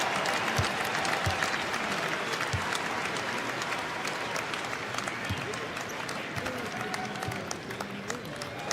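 Arena crowd applauds steadily at an NBA game between the Milwaukee Bucks and Washington Wizards, a dense wash of clapping and cheering that runs throughout at moderate loudness, with a commentator's voice faintly underneath.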